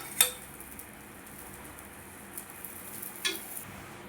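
A banana pancake fries in ghee in a pan, giving a faint, steady sizzle with a couple of sharp utensil clicks near the start and later. No one speaks.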